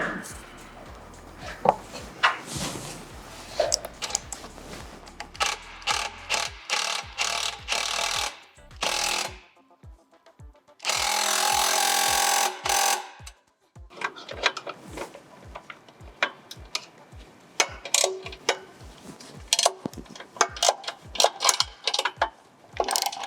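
A hand ratchet with an extension and swivel tightening bolts on an aluminum skid plate of a vehicle, giving rapid rows of crisp clicks in repeated bursts with pauses and a brief loud whirring burst midway, close and alone.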